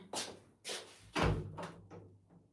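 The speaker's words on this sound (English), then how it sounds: "This door is annoying me." An indoor door, pushed by wind through an open window, knocks and thumps against its frame in three or four soft irregular bumps close by, with no voices.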